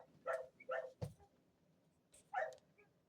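A dog barks four times in an irregular rhythm, sharp and fairly close, with short quiet gaps between the barks.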